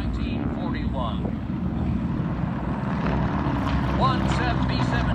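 Propeller-driven World War II aircraft staging a Pearl Harbor attack re-enactment at an air show drone steadily overhead, a continuous engine roar with passing buzz, amid crowd ambience.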